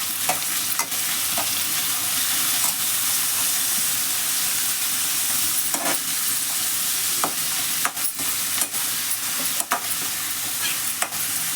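Oil sizzles and hisses steadily in a pan over medium flame with green chillies and curry leaves while a utensil scrapes and clicks against it now and then as the food is stirred.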